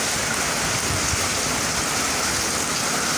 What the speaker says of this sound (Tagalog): Tama na ulan, Hong Kong.